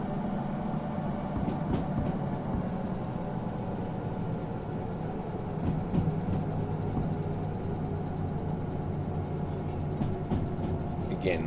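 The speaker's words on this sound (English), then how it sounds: "Let the train do the work." Locomotive rumbles along the rails in the train simulator game Derail Valley, a steady mechanical drone with faint rhythmic clacks running continuously throughout, under a speaking voice.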